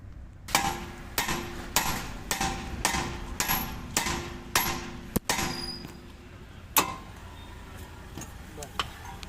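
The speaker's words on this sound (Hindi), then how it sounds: "इसमें फिर हथौड़े की चोट मारनी होगी।" A hammer strikes a front suspension part on a Hyundai Grand i10 in a workshop, about ten sharp metallic blows in a steady rhythm, close and loud, then a few scattered knocks.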